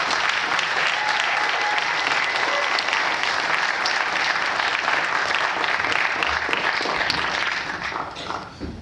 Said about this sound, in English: applause for that film